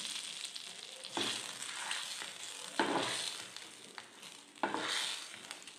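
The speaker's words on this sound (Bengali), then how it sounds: "তেলে একটুখানি শুকনো লঙ্কা গুঁড়ো আর দুটো শুকনো লঙ্কা এই আমি ফোড়ন দিয়ে দিচ্ছি" Dried red chillies and chilli powder fry in hot oil for a prawn malai curry tempering, a soft steady sizzle broken by a few louder stirring surges.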